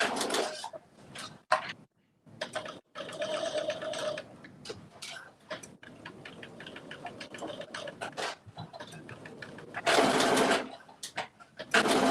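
A sewing machine stitching a garment runs in bursts of rapid mechanical whirring and clatter, stopping and starting several times at close range.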